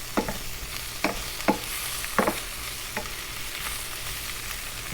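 Garlic sizzles in butter in a pan with a steady, close frying hiss, broken by a few sharp utensil taps and scrapes as it is stirred; no one speaks.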